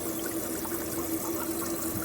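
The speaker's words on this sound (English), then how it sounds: "Okay, the tank is filling," Fresh water runs steadily into a toilet's water tank during refilling, a constant hissing pour with no break, close and fairly loud throughout.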